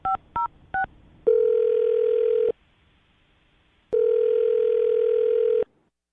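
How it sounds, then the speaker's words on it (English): A landline phone being dialed: three short touch-tone beeps, then a steady ringback tone that pauses and sounds again, loud and close with no talking. "I'm dialing her phone number right now"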